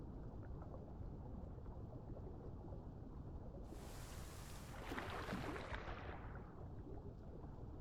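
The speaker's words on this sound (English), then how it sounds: "Oh, it's raining." Steady rain hisses throughout in the video game Path of Titans, with a brighter rushing swell of downpour in the middle before easing back.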